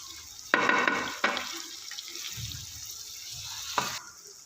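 Peeled, chopped tomatoes, about half a kilo, drop into hot frying masala for aloo gosht, giving a few sharp sizzling bursts followed by a steady crackling fry with light stirring, close and fairly loud.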